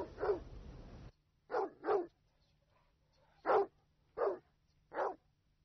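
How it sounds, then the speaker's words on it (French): Dog barking in a desert setting: a longer opening bark followed by five short, separate barks in uneven rhythm, clear and fairly close against a quiet background. "ils ont entendu leur chien aboyer"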